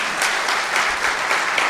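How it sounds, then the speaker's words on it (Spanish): An audience applauds at the end of a lecture on artificial intelligence, with continuous close clapping at an even level across the whole short stretch and no speech. "Un aplauso"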